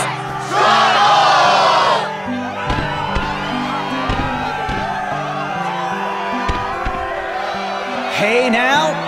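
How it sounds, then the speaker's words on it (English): A game crowd in Kingdom Hearts 2 Final Mix erupts in a loud burst of cheers and yells, then settles into a lower murmur of crowd noise before another short swell near the end. "the crowd is fired up"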